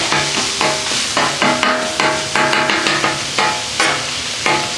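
A metal spatula scrapes and stirs seasoned tater tot casserole on a Blackstone griddle in a steady, rhythmic scraping pattern, loud and close, with a light sizzle underneath.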